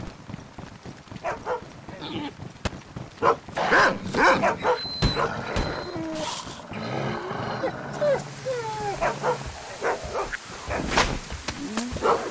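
Dogs barking and yelping in the survival video game DayZ, scattered yips and barks over several seconds mixed with game noise and someone talking over them.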